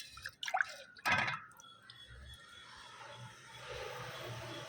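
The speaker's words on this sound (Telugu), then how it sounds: "సో వాటర్ అనేది ఇలా వచ్చేస్తుంది" Liquid drips and squishes out of a mashed plant-nutrient mixture, with a few close wet splats early on, then a faint trickle and soft hiss, heard quietly with no talk.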